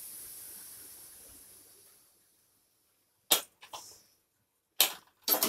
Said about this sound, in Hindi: मैं इसमें स्टीम निकाल देती हूँ।